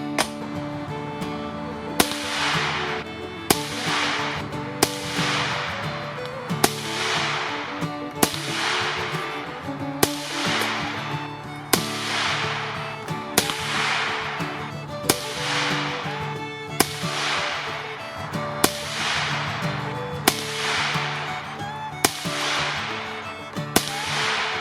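Around fifteen sharp .22LR rifle shots fired with CCI Copper 22 ammunition crack at regular intervals of roughly a second and a half, each with a short outdoor decay, with no voices.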